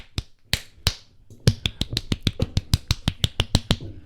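A mouth imitates a rapid series of punches to the face: a few spaced sharp clicks, then a quick, steady run of about a dozen close, punchy snaps, fairly loud and without talking.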